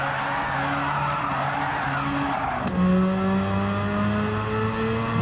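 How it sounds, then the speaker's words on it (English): Tires skid and squeal as a car drifts through a corner in Gran Turismo 7, with a steady engine drone underneath. The squeal runs continuously, several sharp ticks come early, and the engine note rises after a gear change midway. "Let's see if we get some drifts."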